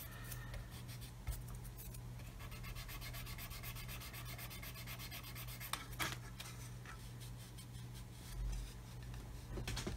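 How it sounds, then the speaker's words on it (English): A sanding stick rubs back and forth against a plastic part from a 1/35 scale model kit, giving a quiet, rapid, rhythmic scratching close up with occasional small knocks and no talking. "So going to gently sand away until my black marks disappear"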